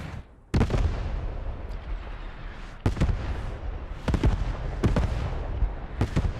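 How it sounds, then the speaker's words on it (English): An artillery barrage in the WWII game Post Scriptum lands as a string of loud, irregularly spaced booms, about five heavy impacts over a constant rumbling battlefield din. "Artillery coming down for the Germans."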